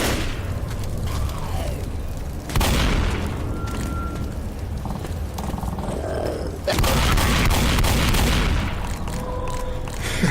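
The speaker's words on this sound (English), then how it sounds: "there's stuff there that keeps exploding" Repeated explosions in a video game war shooter, two heavy booming blasts several seconds apart, each followed by rumbling debris under continuous battlefield noise.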